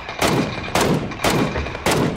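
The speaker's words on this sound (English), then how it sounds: "I heard where those shots are coming from, though." Four heavy gunshots in PUBG, spaced roughly half a second apart, each a loud sharp crack with a short decaying tail, close and alone.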